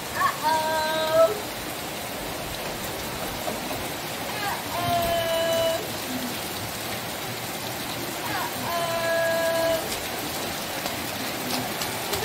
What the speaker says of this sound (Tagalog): Rain, rain, go away.